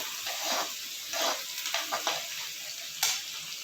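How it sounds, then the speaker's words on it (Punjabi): Green chillies and garlic sizzle and crackle in hot oil in a pan on a gas stove, with steady close frying hiss and sharper spits and pops from bursting chilli seeds. "ਉੱਪਰ ਪੈ ਜਾਂਦੀਆਂ ਮਿਰਚਾਂ ਦੇ ਬੀਜ ਤੜਕ ਤੜਕ ਕੇ"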